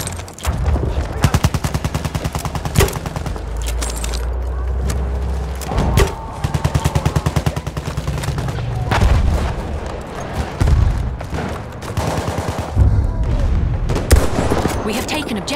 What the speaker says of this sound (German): Aufpassen, Maschinengewehr!